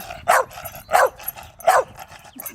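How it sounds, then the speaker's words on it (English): A puppy in a backyard barks three times in a steady rhythm, each bark short, sharp and fairly close, with quiet gaps between. "Crazy dog."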